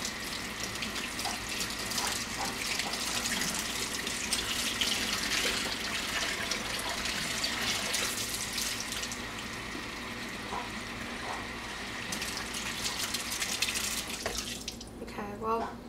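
Running tap water pours steadily as soap is rinsed out of hamster care items at a sink, a continuous splashing hiss that stays loud throughout before easing off near the end.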